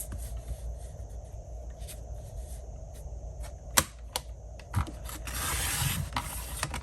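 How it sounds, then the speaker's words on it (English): Blade trimming a narrow strip off the side of a paper sheet for a handmade journal, a steady soft scraping rasp with a few sharp clicks and a louder rough stretch near the end, close and quiet, no talking. "Let me just trim a little bit off of the side as well."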